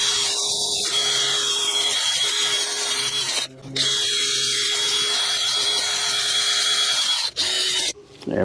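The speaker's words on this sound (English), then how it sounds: "So I'm just going to use a wire wheel here on a drill." A wire wheel spun on a power drill scrubs brake caliper clips from a Mazda CX-9, a steady high whirring grind that runs continuously with a couple of brief pauses, loud and close, with no speech.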